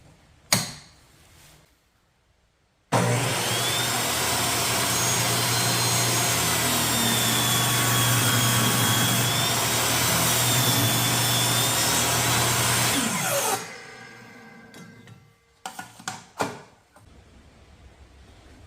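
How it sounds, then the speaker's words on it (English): Table saw cutting wood for a pigeon training basket, loud continuous whining cut lasting about ten seconds after the blade spins up, then winding down with a few knocks and clatters of handled wood, no talk. "now I'm gonna set my table saw to 1 inch."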